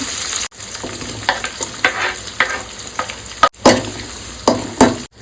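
Garlic, curry leaves and onion tempering in hot oil in a home kitchen pan, giving a steady sizzle with repeated sharp stirring scrapes and clatters, fairly close and with no talk.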